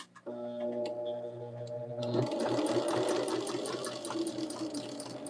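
Sewing machine stitching a quilt block, a steady, rapid mechanical whir and ticking that starts after a brief pause with a faint hum, running close and continuous to the end.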